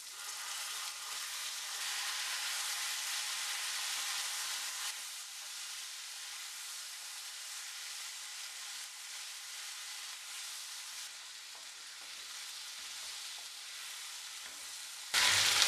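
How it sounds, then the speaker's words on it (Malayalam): Boiled jackfruit seeds stir-fry with chillies in a pan, giving a steady, fairly quiet sizzle with light stirring for most of the stretch, then a louder burst of frying right at the end. "ഇതിനകത്തേക്ക് നമ്മളിവിടെ വേവിച്ച് വെച്ചിരിക്കുന്ന ചക്കക്കുരു ചേർത്ത് കൊടുത്ത് നന്നായിട്ട് മിക്സ് ചെയ്തെടുക്കാം"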